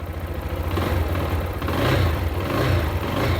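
A Lifan KPS 200 fuel-injected motorcycle idles close by with a low, quiet, steady exhaust burble that swells slightly midway.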